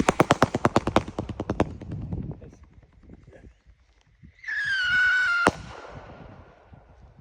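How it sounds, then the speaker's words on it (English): Strobe rockets from Fox Fireworks at a backyard fireworks show: a rapid run of sharp crackling pops, then a rising whistling whoosh ending in one loud bang, with faint crackle trailing off afterward. "We got strobe rockets by Fox Fireworks."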